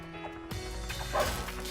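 A giant dog barks in the LittleBigPlanet video game, a couple of loud, close bursts over steady game music and sound effects.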